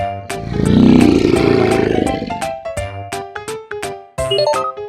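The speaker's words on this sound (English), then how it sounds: "Lion." A lion lets out one loud, swelling roar that fades into grunts, set against a plinking musical jingle from a children's animal game.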